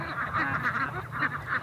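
Peking ducks kept on a meat and egg farm give a run of loud nasal honking quacks, several calls overlapping in a close, steady chorus with no speech.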